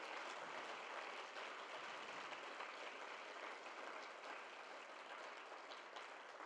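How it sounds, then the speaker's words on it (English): A TEDx audience applauds the evening's speakers in a sustained, even roar of many hands clapping that stays strong throughout before easing slightly toward the end. "One massive round of applause for all of our speakers tonight."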